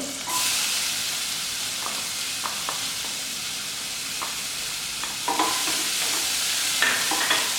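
Onion sautéed with green chili and ginger in a pan, a loud, steady hissing sizzle with intermittent spatula scrapes, swelling louder as the pieces are stirred again.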